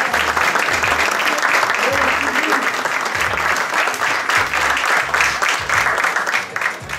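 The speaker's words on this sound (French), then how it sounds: "Je vous reste, chers amis, d'applaudir Madame Sylvie Malice qui est là" Sustained audience applause at a gala dinner awards evening, dense steady clapping throughout, fairly loud and close, with a pulsing low background beat running underneath.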